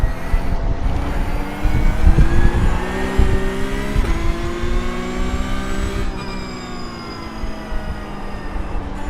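A GT3 race car engine revs and roars on track at close range, pitch climbing and shifting through gears over several seconds, with steady mechanical drone and no talk.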